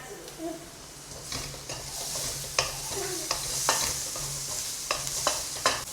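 Onions fry in a pan on the stove under a steady sizzling hiss, punctuated by repeated scraping and tapping as they are stirred. The sound is close, continuous and fairly quiet throughout.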